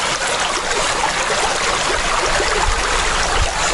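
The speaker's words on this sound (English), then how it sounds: "we have a big creek crossing here." A big, deep creek at a hiking crossing near Greenbo Lake rushes steadily and loudly up close, a dense, unbroken wash of flowing water with no voices.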